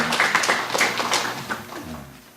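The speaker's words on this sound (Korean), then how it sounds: "크게 한번 박수 한번 하실까요?" A church congregation at a Korean Sunday service claps for the choir, a brief burst of scattered hand claps that tapers off within a couple of seconds.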